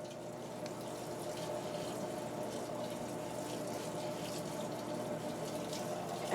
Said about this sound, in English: the water started to fill the drum